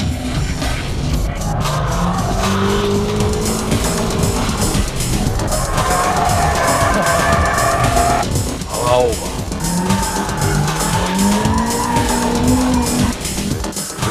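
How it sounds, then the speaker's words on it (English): A car driven by Keiichi Tsuchiya drifts using the shift lock technique: a loud, continuous roaring engine rises and falls under screeching, skidding tires, close and sustained. "Keiichi Tsuchiya drifts using 6 different drift techniques."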